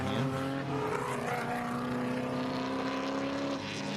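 Race car at speed on a track during a wet-and-dry SKOPE 2025 race, engine droning steadily with stacked harmonics for the whole stretch, loud and continuous, no voices.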